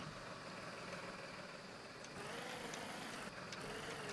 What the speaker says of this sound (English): little tractor off-roading.